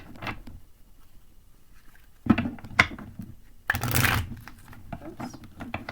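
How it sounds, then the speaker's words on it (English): A deck of tarot cards being shuffled by hand in a few short bursts of riffling and snapping, with a longer flurry near the end, close and fairly quiet, no talking. "I'm going to go ahead and shuffle these cards somewhat"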